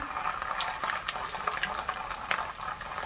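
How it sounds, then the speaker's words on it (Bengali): Browned onions frying in a pan with ginger paste added, a steady close bubbling sizzle with faint scattered pops, continuous and without talk. "পেঁয়াজটা লাল হয়ে গেছে, এবার দিয়ে দেবো আদা বাটা"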